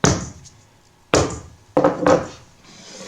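A hammer taps nails into wooden boards while a birdhouse is built, four sharp knocks spaced irregularly and close up, each ringing briefly before fading.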